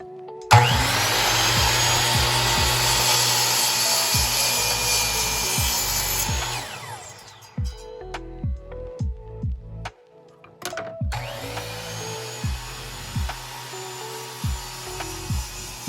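A Delta Cruzer 10-inch miter saw spins up loud and close and cuts through mesquite for several seconds, winds down, then runs again after a series of knocks and clicks.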